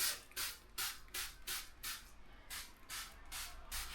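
A spray bottle of eucalyptus mint bathroom cleaner pumped repeatedly, about nine quick hissing squirts in a steady rhythm, close up with no talking.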